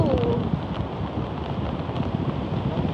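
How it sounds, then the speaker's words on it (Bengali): Rain pours on a beach by the sea at Inani, a steady close hiss of falling drops mixed with wind buffeting the microphone, with no voices. "সমুদ্রে এইভাবে বৃষ্টিতে ভেজা আমার লাইফে ফার্স্ট"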